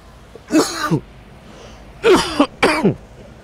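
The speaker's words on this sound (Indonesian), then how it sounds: "Saya ini sedang batuk sebetulnya" Three throaty coughs close up, one alone and then a pair a moment later, each a harsh rasping burst with quiet in between.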